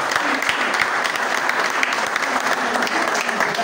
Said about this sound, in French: Est-ce que vous pouvez applaudir pour vous-même?